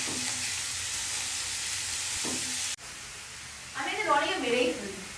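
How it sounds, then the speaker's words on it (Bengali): Bottle gourd dropped into hot oil left from frying fish gives a steady sizzle with a couple of stirring scrapes, then the sound cuts off and a voice speaks over a quieter background. "যে মাছ ভাজা তেলেই মধ্যেই আমি লাউটা দিয়ে দিলাম।"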